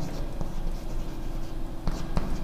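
A pen or marker scratches steadily across a board or paper during a chemistry lesson, a continuous close writing scrape with a couple of sharper taps near the end.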